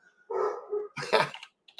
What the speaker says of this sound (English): Is that my dog or your dog?